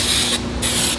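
AcoustiShield floor-kit adhesive hisses from a spray gun in a directional fan pattern, a loud close spray that breaks off briefly and then resumes.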